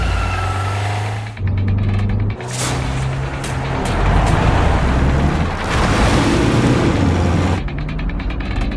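A car driving while following a taxi: a steady engine drone with rattling, ratcheting mechanical noise and shifting road rumble, loud and continuous with brief dips, no speech.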